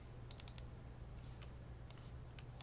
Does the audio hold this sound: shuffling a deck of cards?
yes